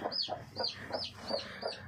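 A hen clucks on a farm in a steady run of five or six short, evenly spaced calls, moderately close and clear over faint background noise.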